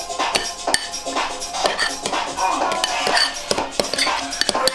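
A spoon scrapes and clinks repeatedly against a bowl while stirring a thick mix of protein powder, oats and a little water, with steady close-up clatter and no talking.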